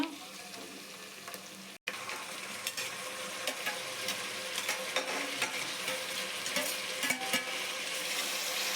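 Chopped tomatoes hit browned onions frying in a pan for chicken biryani, a steady close sizzle with stirring scrapes and small crackles that swell after a brief drop.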